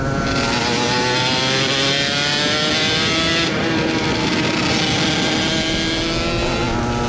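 An Aprilia RS 125 two-stroke motorcycle with a 34 mm carburettor and flat head, revving loud and close in a sustained, buzzing high-pitched wail that holds and wavers without pause.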